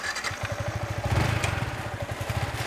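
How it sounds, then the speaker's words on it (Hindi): Yamaha R15M motorcycle engine running with the front brake held while the clutch is let out, a loud steady low pulsing exhaust throb with a rapid even rhythm, close by and without talk. "मैं अगली ब्रेक दबाए रहूँगा और क्लच छोड़ दूँगा तो पीछे वाला पहिया नाच जाएगा"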